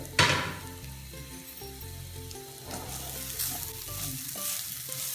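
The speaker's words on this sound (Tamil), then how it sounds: "அரை முறி தேங்காய் நல்லா வறுக்கணும்." Half a grated coconut roasting in a pan for a Nagercoil hotel-style goat intestine fry, stirred steadily, giving a continuous close sizzle with soft scraping under a layer of background music.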